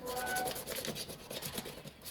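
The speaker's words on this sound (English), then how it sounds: "we're essentially wet sanding an air cleaner" Wet sanding of a plastic air cleaner from a Honda XL250 motorcycle under restoration, a steady close scraping and rubbing with repeated strokes, no talk.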